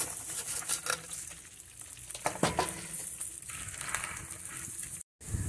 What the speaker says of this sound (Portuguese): agora aqui eu vou refogar o arroz.